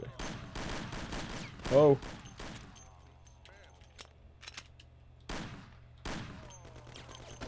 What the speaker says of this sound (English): We've got Tommy gun.